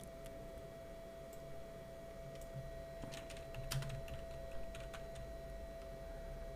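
Keys clatter on a computer keyboard in a steady run of quiet, close taps with a few louder strokes midway, alone without any talk.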